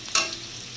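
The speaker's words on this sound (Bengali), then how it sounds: "আলুগুলো লাল করে ভাজা হয়ে গেছে" Potatoes frying in mustard oil for Bengali mutton kosha, a brief close sizzle with a quick stir, lasting under a second.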